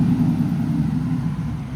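A cammed GMC Yukon with an LS engine drives along the road, producing a steady low engine rumble from inside the vehicle.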